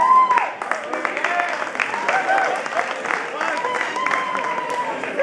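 An audience claps warmly for a percussion teacher at a Bata Oriki Ensemble performance at WMDC, a busy spread of hands that carries on while a voice talks over it.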